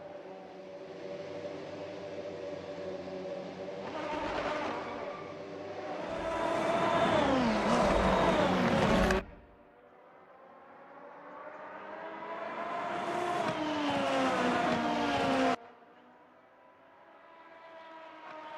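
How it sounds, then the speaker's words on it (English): Qualifying race cars circling Fuji Speedway in a sim-racing series, engine notes rising in long sweeping pitch climbs as cars pass and shift, cutting off abruptly between runs, fairly loud with no talk. "We got cars back out on track as they're now prioritizing their attention to split B."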